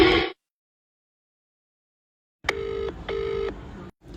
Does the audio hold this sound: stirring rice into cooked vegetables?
no